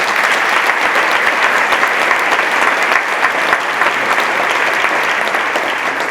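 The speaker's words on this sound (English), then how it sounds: "Can we give them a round of applause?" Sustained, dense applause from a large audience at a school staff professional development day, loud and steady throughout with no break.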